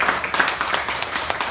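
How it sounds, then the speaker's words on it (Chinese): An audience claps at a live a cappella concert, a brisk burst of overlapping handclaps that rises and trails off over a second or two, close and lively. "哇，掌声鼓励鼓励。"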